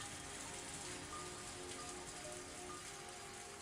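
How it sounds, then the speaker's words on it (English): Rain falling in the Higurashi video game, a steady, even hiss of dense drops on surfaces, faint and unchanging throughout with no voices. "But the cold air and the sound of rain didn't change a bit."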